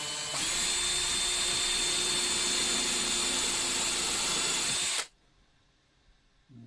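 A power drill bores a pilot hole with a pilot bit for a hole saw in a DIY wooden nutcracker build, whining steadily and loudly for about five seconds before stopping abruptly into near silence.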